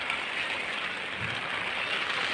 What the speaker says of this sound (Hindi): देख सकते हो कि बारिश स्टार्ट हो गई